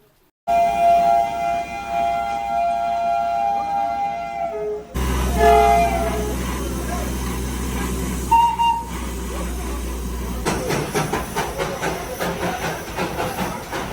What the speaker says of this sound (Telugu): మనం అనుకున్న ట్రైన్ అయితే వచ్చింది